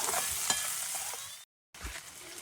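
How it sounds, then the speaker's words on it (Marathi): Onion and capsicum fry lightly in a pan for a restaurant-style chicken chilli, giving a steady close sizzle and crackle that cuts out briefly before resuming. "हे कांदा आणि शिमला मिरची आहे हे 1-2 ते 3 मिनिटच फक्त हलका असं भाजून घ्यायचं आहे"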